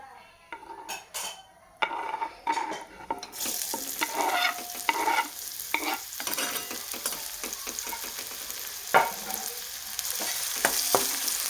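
Onion frying in hot oil in a pan, with a soft start before a continuous sizzle builds, broken by frequent utensil clanks and scraping as it is stirred.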